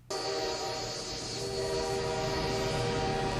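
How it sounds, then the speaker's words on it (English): A train from the 1987 film Planes, Trains and Automobiles: a steady rumbling roll with a sustained horn-like tone over it, moderately loud and continuous for a few seconds, with no talking. "I think I'm hearing a plane, a train, and an automobile all in the same soundscape"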